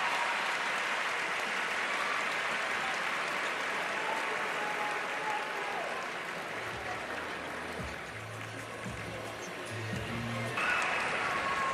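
Basketball crowd applause for UConn women's guard Paige Bueckers as she returns to the game after being hit in the eye, a dense, steady arena roar of clapping and cheering throughout, with faint commentary-like voices low beneath it.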